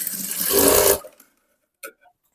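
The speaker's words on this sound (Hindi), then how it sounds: "अब डबल सिलाई लगा रही हूँ 1/2 इंच की दूरी से।" A sewing machine runs a double line of stitching along a blouse strip in one loud, close burst lasting about a second, then stops, followed by a couple of faint clicks.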